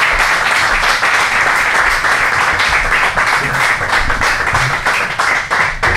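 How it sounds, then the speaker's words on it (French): Loud, dense audience applause welcoming guests onto a televised debate about the carbon tax, a continuous close wall of clapping that stays steady for the whole six seconds. "je pense que c'est l'occasion de les applaudir"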